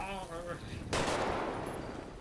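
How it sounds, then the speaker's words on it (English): Gunfire bursts in a GTA roleplay game, a sharp loud report followed by a rough, dense barrage, mixed with game ambience and a voice talking earlier. "Shots fired!"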